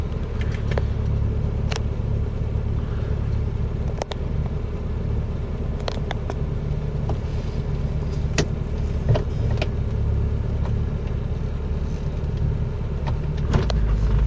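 Mk3 Ford Cortina driving around, a steady low engine rumble with road noise throughout, fairly close, with a few brief clicks and knocks over the drone.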